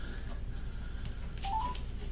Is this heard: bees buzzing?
no